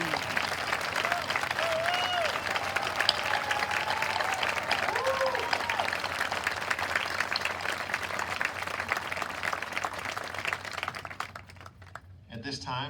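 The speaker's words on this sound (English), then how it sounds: "At this time, let's clap for" Graduation ceremony audience applauding a graduating class, a steady wash of many hands clapping at moderate distance for about eleven seconds before thinning out, with faint voices mixed in.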